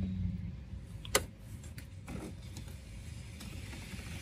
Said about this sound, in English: the computer is reacting and adjusting the temp flap.